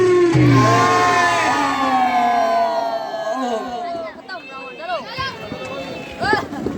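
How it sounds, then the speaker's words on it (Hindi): A Ramlila audience cheers and shouts together in a loud burst that fades over a few seconds, followed by scattered individual shouts and chatter. "एक बार जोरदार ताली बजाकर जयकारा करेंगे, बोले रामचंद्र भगवान की"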